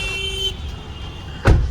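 A car arrives home at close range, a low engine rumble under a brief whine that stops, then a sudden loud thud or clunk near the end, with no voices.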